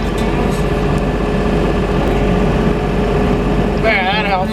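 A skid steer engine idles steadily during snow plowing, a loud continuous low rumble with harmonic drone throughout, and a brief voice near the end.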